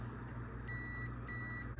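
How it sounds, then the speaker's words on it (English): A multimeter set to continuity gives two short, clear electronic beeps while testing a microwave's door circuit, over a low steady background hum. "I have my meter set up on continuity with the beep."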